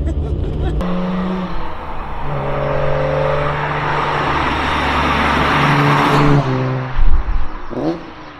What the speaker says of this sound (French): Ce qui est fou, c'est comment BMW a réussi à rendre unique la sonorité d'un 6 cylindres.